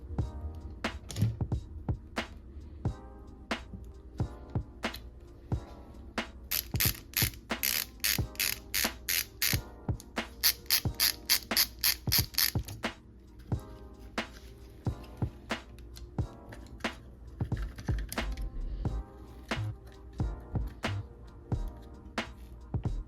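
Close, rapid ratchet clicking in repeated bursts while screws are backed out of a Nitro Red Cat Volcano RC car, separated by brief pauses and light handling noises, with no talk.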